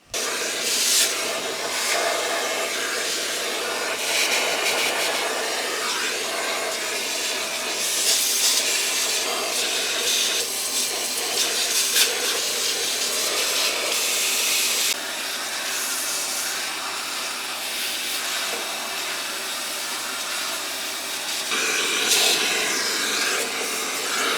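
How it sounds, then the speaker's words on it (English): Shop vacuum sucking sawdust from beneath a cast iron machine table in a workshop, a steady loud airy roar and hiss running the full length with slight surges in pitch as the nozzle moves, no talking. "let's get the shop vac and get this thing cleaned"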